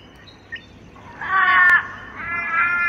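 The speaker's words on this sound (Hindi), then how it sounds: "काले कौवे बिल्ली की आवाज़ निकाल रहे हैं" An Australian black crow in Sydney gives a drawn-out, nasal, cat-like wail, one faint short call followed by two louder, longer cries that rise and fall outdoors.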